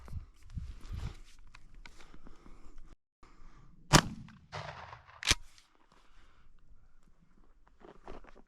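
Shotgun firing Winchester Super X number 4 buckshot at 7 yards: two sharp, loud blasts roughly a second apart, with quieter shuffling and handling noise before and after.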